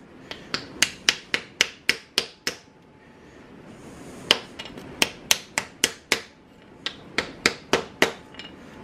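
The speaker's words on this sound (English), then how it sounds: "I can tap my pins down in there pretty easy." Sharp taps of a small wooden hammer driving pins into a knife handle, in quick bursts, around twenty in all, close and crisp, with a short pause in the middle before another run of taps.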